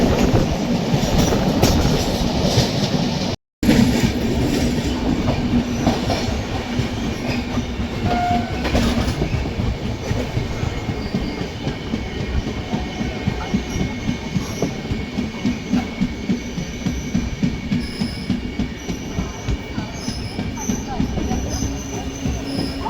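The Tirumala Express passenger train runs on the rails with a continuous heavy rumble and rhythmic wheel clatter, plus occasional squeals, heard from onboard, with a brief cut-out near the start.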